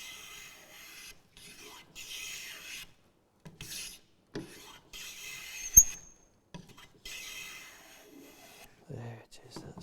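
Hand plane shaving a wooden winding stick in a workshop, several quiet rasping strokes with pauses between them, close-up, and someone speaking softly in between.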